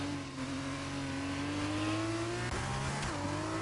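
Formula 2 race car engine at Monza in a racing video game, a steady droning whine with rising pitch as the car struggles to put power down, continuous and fairly close throughout.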